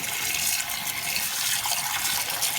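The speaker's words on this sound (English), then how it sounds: "Now you will need to run them under the tap once or twice." Tap water runs steadily over chopped potatoes in a bowl, a continuous close rushing splash with no talking.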